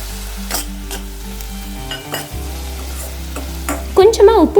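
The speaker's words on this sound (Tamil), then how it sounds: "வெங்காயம் பூண்டு நல்லா வதங்கட்டும்." Onion and crushed garlic sautéing in a pan for an Andhra-style bitter gourd curry, a steady close sizzle with scraping stirs and a few clinks, growing louder and busier near the end.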